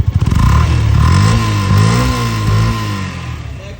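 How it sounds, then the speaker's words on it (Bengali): A used motorcycle in fresh condition starts on the first press and settles into a loud, close, steady idle, its engine note wavering slightly. "আমি যদি স্টার্ট দিয়ে দেখাই দেখতে পাচ্ছি এক টোটাতে স্টার্ট এবং এই ইঞ্জিন সাউন্ড"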